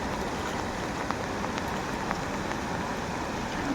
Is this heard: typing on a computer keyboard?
no